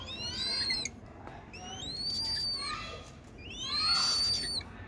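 Purple swamphens kept as farm birds give three loud, rising whistled shrieks, each lasting about a second, close and clear against a faint background hiss.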